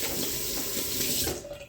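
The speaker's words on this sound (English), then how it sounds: "let me just rinse my hands." Hands rinsed under a running kitchen tap while baking banana bread, a close steady splash of flowing water that cuts off abruptly near the end.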